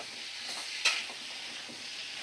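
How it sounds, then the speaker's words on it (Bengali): Pumpkin pieces fry on a high flame as they are stirred, giving a soft continuous sizzle with one brief scrape of the spatula partway through. "আমি ভালো করে দেখো কুমড়োটা দিয়ে নাড়াচাড়া করে নিচ্ছি"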